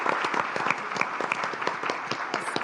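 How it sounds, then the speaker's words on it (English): Audience applause at an options industry conference panel, a steady patter of many hands clapping in a room, moderately loud and continuous with no talk over it. "I think we should all give them applause"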